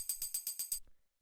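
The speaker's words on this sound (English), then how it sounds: "So yeah, the next thing we have here is this tambourine" Tambourine sample from a classic deep house track, six evenly spaced bright jingly hits in a steady groove, up close and alone, ending with a faint trailing shake.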